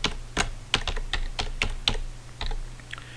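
Fingers tap out a search on a computer keyboard, a steady run of close, crisp keystrokes with uneven spacing over a faint background hum.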